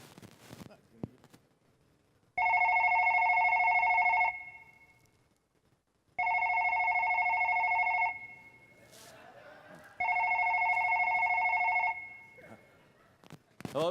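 A telephone rings in three long electronic bursts separated by short silences, loud and close, with a brief bit of voice and stage noise between the rings.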